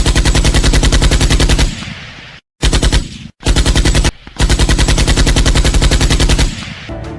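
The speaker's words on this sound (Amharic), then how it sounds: "ጠላፊዎቹ ከአዳራሹ ወጥተው ራሳቸውን ለመከላከል ተኩስ ከፈቱ" Automatic gunfire in a firefight as hijackers shoot from an airport terminal hall at Israeli commandos in Uganda: loud, close, sustained rapid bursts broken by a few brief silent gaps, with no talking.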